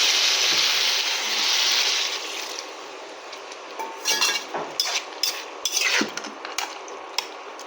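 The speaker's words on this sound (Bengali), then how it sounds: "এবার এর মধ্যে আমি জল দিয়ে নিচ্ছি।" Water goes into a pan of fish head and yardlong bean curry: a broad hiss of pouring and sizzling first, then settling into scattered clinks and stirring scrapes at moderate loudness.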